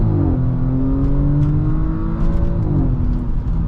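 Audi S6 Premium Plus 2.9T, 2021, pulling hard from a standstill, its engine note rising steadily in a loud continuous drone with a brief shift dip partway, heard from inside the car without talk.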